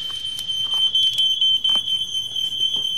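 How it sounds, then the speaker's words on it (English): A smoke alarm shrills in repeated piercing beeps, close and loud, set off while copper pipe is being soldered with a torch, flux and solder, with some clatter of work noises mixed in. "and turn off the fire alarm"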